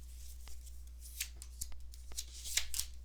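Tarot cards are shuffled and drawn in quick, crisp flicks and riffles, coming as irregular soft bursts over a low steady hum in a quiet room.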